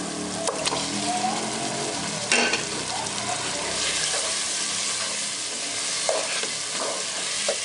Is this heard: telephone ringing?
no